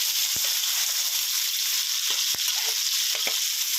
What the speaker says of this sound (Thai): นี่ก็ใส่หมูลงไปเลยนะครับ